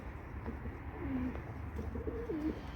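Pigeons cooing softly in a loft, a couple of low rolling coos close by over a dull, steady background hum.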